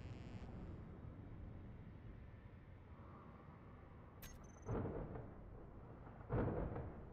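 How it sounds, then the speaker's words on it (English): Electrical-storm thunder in the Space Engineers video game: a low background rumble, then two heavier, separate cracks about two seconds apart, with nobody talking. "I hear a storm rolling in."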